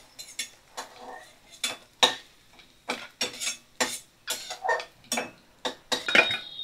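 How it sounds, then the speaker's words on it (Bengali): A metal spatula scrapes and clinks against a pan while lifting fried chana dal fritters out of oil, a dozen or so sharp, close knocks and scrapes in an uneven rhythm with quiet gaps between them. "এবার আমি দেখো সব ছোলার ডালের বড়িগুলো তুলে নিচ্ছি।"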